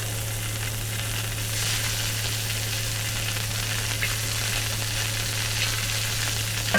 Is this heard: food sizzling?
yes